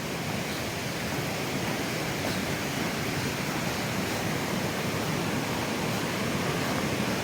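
Muddy floodwater pours over a full river weir in a steady, dense roar that holds at the same loudness throughout, with no voices over it.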